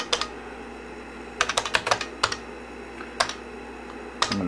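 Keys clack on an IBM 5150 PC keyboard while DOS commands are entered, sharp isolated keystrokes with a quick burst of several in a row, close and clear over a quiet room hum.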